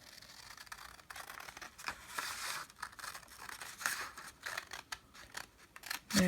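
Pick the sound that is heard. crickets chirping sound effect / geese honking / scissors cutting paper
scissors cutting paper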